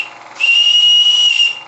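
A steam whistle on a boiler running with its pump sounds one steady, loud, high-pitched blast of about a second and a quarter, close up and alone, cutting in sharply and fading at the end.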